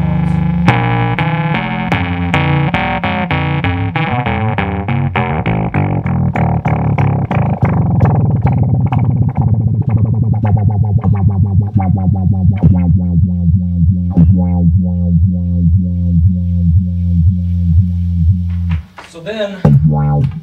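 A buzzy Moog synthesizer tone sweeps as its low-pass filter closes, turning darker and pulsing rhythmically, loud and sustained, ending with a brief noisy burst.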